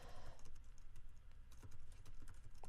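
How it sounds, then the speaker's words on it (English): Rapid, irregular keystrokes clatter on a computer keyboard as HTML code is typed, light close clicks in quick uneven bursts with no voices. "I'm just going to type a little HTML code, and I just type it directly in here"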